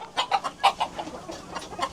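Chickens in a poultry house on a hot day, clucking in quick, overlapping bursts, fairly close and steady over a faint background hum, with no voices.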